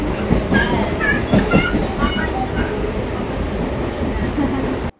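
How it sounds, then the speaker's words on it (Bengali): A local train rumbles steadily along the tracks with a continuous low roar, while voices chatter faintly underneath the noise. "মিছরিকে নিয়ে লোকাল ট্রেনে উঠে আমাদের কি হয়রানি অবস্থা সেটা একবার দেখে নাও"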